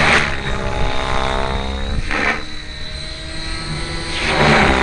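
A radio-controlled model helicopter drones steadily with a throbbing rotor and engine whine, loud and close throughout, swelling slightly toward the end.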